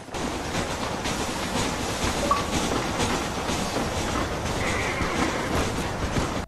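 A train rolls past on the tracks in the Red Dead Redemption video game, a steady loud rumble of wheels and cars with faint clacking, sustained throughout without voices.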